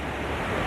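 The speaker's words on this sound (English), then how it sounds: "Look at the waves." Ocean surf breaking on a beach, a steady, full roar of wash and spray with no pauses and no voices.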